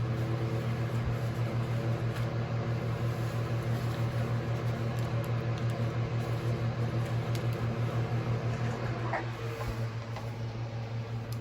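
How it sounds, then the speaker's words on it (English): A nearby electric fan hums steadily in a warm home art room, a constant broadband whoosh with a low motor drone that runs unbroken and fairly loud throughout, with faint small clicks and handling sounds. "Sorry about the fan, but I'm roasting in my art room tonight."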